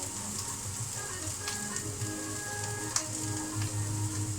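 Onions browning in a pan, giving a steady bright sizzle throughout with faint scraping stir sounds and one small clatter near the middle, loud and close, with no speech.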